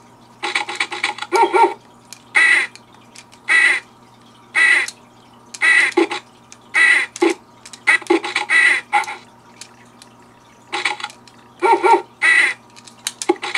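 Ducks quacking in a Duck Hunt knockoff video game, repeated short bursts of electronic quacks and game sounds in a steady rhythm, loud and close, without speech.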